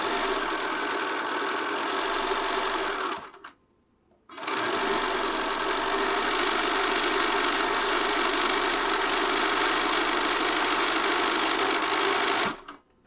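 Sewing machine stitching a hem along a petal sleeve, a loud steady mechanical whir running nearly continuously, broken by one brief pause near the start and stopping at the end.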